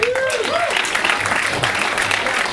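Audience applause at a comedy roast, a steady wash of clapping filling the room for the whole stretch, with a voice speaking briefly over it near the start.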